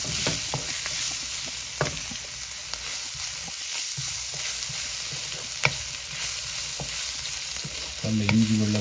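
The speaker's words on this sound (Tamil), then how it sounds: "இப்போ வெங்காயம் கொஞ்சம் வதங்கிட்டு இப்போ நாங்கள் இஞ்சியும் வெள்ளைப்பூண்டும் பிடிச்சு வச்சதை போடுறோம்" Ginger and garlic are frying with softened onions in a pan for squid curry, giving a steady, close sizzle with occasional light stirring scrapes and no talk.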